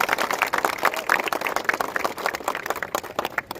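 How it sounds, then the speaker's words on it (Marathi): A crowd at a Narali Purnima festival celebration in Mira Bhayandar applauds the music composers, giving dense, steady clapping from many hands throughout, with no speech over it. "तर त्यांच्यासाठी एकदा सगळ्यांनी टाळ्या वाजवायच्या आहेत."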